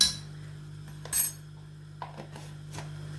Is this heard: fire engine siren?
no